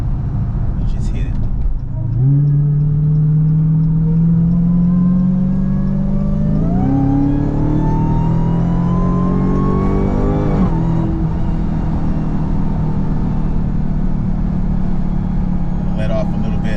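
A Dodge Hellcat in sport mode surges at full throttle onto a highway, its engine roaring loud and close as the pitch climbs through two gear changes before easing off, with a voice talking over it.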